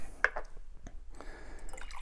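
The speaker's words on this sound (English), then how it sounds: "I'm going to put some of this water in here like this" Water is poured into a glass in a sunflower oil density demonstration, heard as a few scattered, close splashes and drips with quiet gaps between them.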